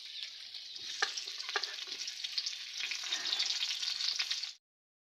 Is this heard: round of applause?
no